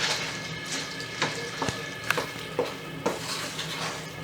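A spoon stirs msemen filling with hot sauce and chives in a bowl, giving soft scraping and a series of light clinks against the dish, close and steady with no talk.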